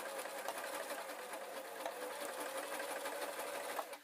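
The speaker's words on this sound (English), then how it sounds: "then I'm going to sew up." Close, steady whirring hum of a sewing machine running continuously while stitching up hat material, with rapid even needle chatter and no voices.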